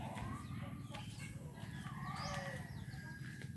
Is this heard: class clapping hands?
no